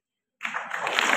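An audience at a police trainee event bursts into applause after a brief silence, a steady, rising wash of many hands clapping together.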